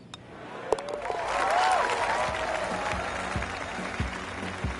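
Crowd applause in a golf video game after a birdie, a steady patter of clapping that swells then eases, heard at moderate level with scattered sharper claps.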